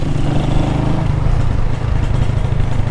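A repaired motorcycle that had been crashed, awaiting a new muffler, runs loud and close with a steady rumbling engine drone throughout.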